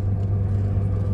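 A Honda S2000 tuned by J's Racing is driven, heard from inside as a loud, steady low engine drone with a constant hum and no change in pitch, without any talking.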